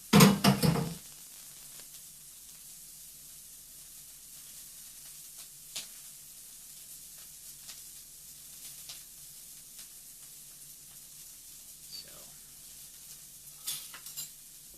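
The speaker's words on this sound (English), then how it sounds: "add the corn and cook undisturbed for 4 minutes" Corn sizzles in a cast iron pan with a faint, steady frying hiss after a loud initial burst as it hits the pan, punctuated by a few soft clinks.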